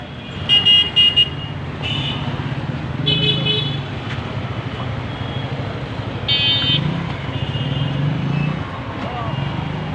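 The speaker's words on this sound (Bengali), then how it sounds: "রিক্সা থেকে শুরু করে মোটরসাইকেল এবং অটো বাইক সব মিলে যানজটের একটি নগর এই রাজধানী ঢাকা" Congested Dhaka street traffic jam with rickshaws, motorcycles and auto-bikes, a steady roadway rumble broken by several short bursts of car horns honking near and farther off, with voices audible in the crowd.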